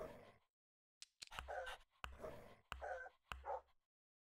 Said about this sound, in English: They're such cute dogs, but fuck, I hate the noises they're making so much.